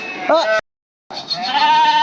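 Sheep bleat loudly at a village dam while being driven into the water to swim and wash off months of dirt, with wavering bleats at close range, a brief gap of silence, then more overlapping bleating.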